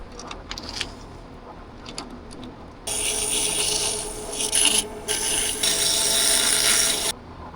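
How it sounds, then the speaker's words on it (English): Sandpaper rubbing against a turned wooden lidded box spinning on a lathe, a steady abrasive hiss that starts after a quiet stretch and runs loud and close for about four seconds, with brief breaks. "I'll be able to sand that"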